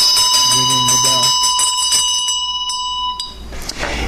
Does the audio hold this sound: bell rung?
yes